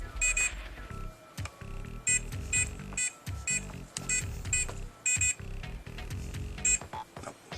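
A SecuRam ECSL-0601A electronic safe keypad in lockout mode emits sharp, high electronic beeps in short clustered bursts. The beeps repeat at uneven intervals over faint low handling noise, moderately quiet and close.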